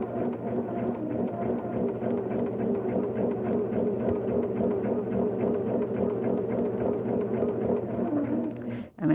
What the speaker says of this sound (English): And then we turn it over and stitch on the line.